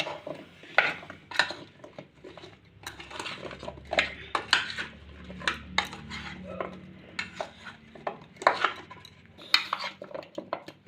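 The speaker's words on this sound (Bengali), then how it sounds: "এবারে এগুলোকে সব একসাথে ভালো করে মেখে নেব" Small potatoes are mixed with meat masala spices in a bowl, producing irregular knocks, clinks and scrapes at close range, some strokes sharper and louder than others.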